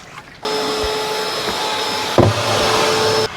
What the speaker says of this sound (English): do you want to start vacuuming that out?